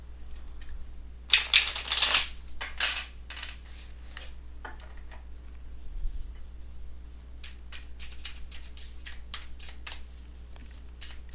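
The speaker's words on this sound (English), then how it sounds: "Actually, I want to shuffle like this at least once." A deck of cards riffled once in a quick burst, followed by softer scattered card taps and handling sounds nearby in a quiet room.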